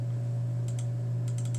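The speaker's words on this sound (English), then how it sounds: "then I'll press enter and start typing in the next one" Computer keyboard keys clicked in two short bursts of quick typing, faint against a steady electrical hum, with no talking.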